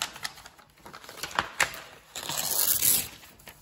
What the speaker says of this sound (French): Alors là je vais le déchirer parce qu'ils sont un peu grands.